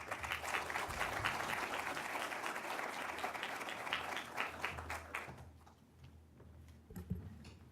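Audience applause at a formal commemorative academy ceremony, a steady, dense wash of clapping that fills the room for about five seconds before thinning out into scattered claps.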